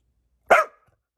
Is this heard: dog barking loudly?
yes